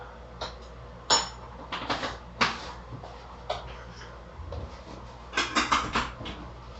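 A spoon is fetched while tea is made in a morning kitchen. Scattered light clicks, knocks and clinks of cupboards and cutlery come at uneven intervals, with a cluster of sharper taps near the end over quiet room noise.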